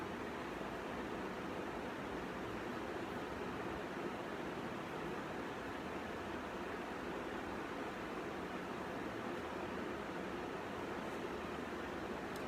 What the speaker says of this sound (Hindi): मुझे पंखा बंद करना होगा।